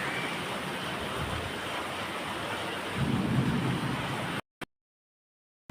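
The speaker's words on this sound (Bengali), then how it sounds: "শুরু হয়ে গেছে বৃষ্টি" Steady rain falling outside with a low rumble of thunder swelling in the middle, continuous and moderately loud before cutting abruptly to silence near the end.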